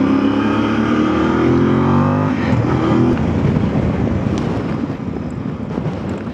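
A Voge DS800X Rally motorcycle accelerates steadily, its engine note climbing and then fading into heavy wind buffeting as riding continues, loud and close with no voices.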